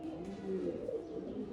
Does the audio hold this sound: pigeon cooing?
yes